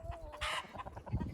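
Hens on a farm cluck in short, busy bursts at close range, with a brighter squawk in the middle of a brief stretch of poultry-yard chatter.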